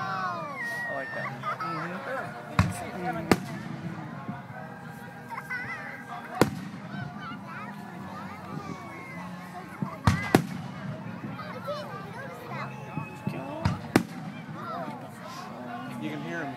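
Outdoor fireworks launching from tubes and bursting: sharp thumps and bangs every few seconds, some near and loud, over a steady bed of crowd noise and people talking close by.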